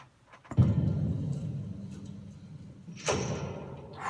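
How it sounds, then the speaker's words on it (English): A sliding door on a film set opens with a sharp whooshing rush of air, entering about half a second in over a low rumble, then a brighter hiss swells near the end. "It's all about the whoosh and the door smoke"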